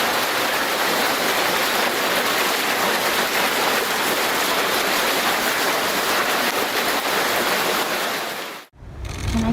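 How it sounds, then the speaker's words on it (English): A heavy hailstorm pounds a swimming pool in a dense, roaring, unbroken hiss of impacts on the water, loud and constant until it cuts off abruptly near the end. "during a heavy hailstorm, the pool feels more like a jacuzzi"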